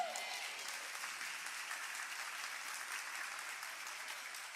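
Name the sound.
church congregation applauding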